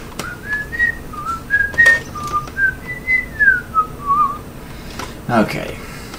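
A person whistles a wandering, tuneful melody of short rising and falling phrases, clear and close, ending with a brief burst of other noise.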